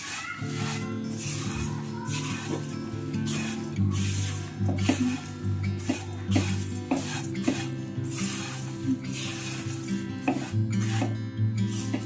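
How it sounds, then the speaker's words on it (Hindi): Haldiram-style navratan chivda stirred and tossed in a pan, with continuous dry scraping and rattling and repeated spoon knocks against the metal, steady and close, with music underneath. "उसे भी हम टेस्ट के हिसाब से इसमें डाल देंगे। और अच्छे से मिक्स कर लेंगे।"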